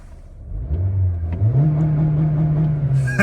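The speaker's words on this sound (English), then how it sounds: "I just love these soft limiters that they have, which you could bounce off of like it's a rev limiter." A naturally aspirated 2.0-litre four-cylinder engine in a 2022 Toyota Corolla SE hatchback revs up and holds against its soft limiter, a close, steady droning rev lasting a couple of seconds.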